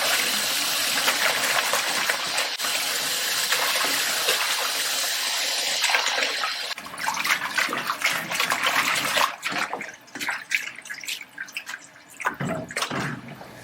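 Tap water runs hard from a kitchen faucet as bok choy is rinsed, a loud steady gush that turns choppy and splashy partway through as the leaves are moved under the stream.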